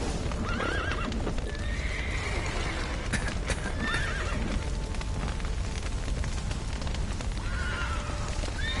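Horses whinny repeatedly in The Witcher 3 over a dense, busy background of rumbling noise and clatter, with hooves clopping throughout; no one speaks.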